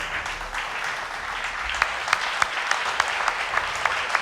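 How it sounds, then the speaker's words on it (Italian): An audience at an evening stage event applauds performers with dense, sustained clapping, and a few sharp, louder claps stand out near the end. "vorrei che prendessero ancora di nuovo i vostri applausi"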